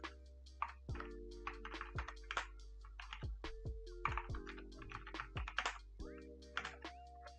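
Typing code on a computer keyboard: close, quick bursts of key clicks in an uneven rhythm, with steady background hum and no speech.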